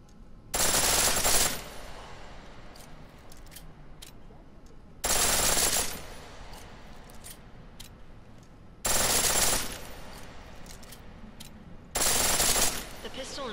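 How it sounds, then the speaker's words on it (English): A pistol fired on full auto in Deus Ex: Mankind Divided, in four loud, evenly spaced bursts of rapid fire, each lasting about a second, with quieter game ambience between them. "The pistol in full auto will take down targets fast, but it'll burn through your ammo."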